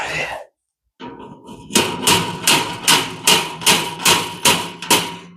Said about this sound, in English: I'm using the actual ball of the hammer.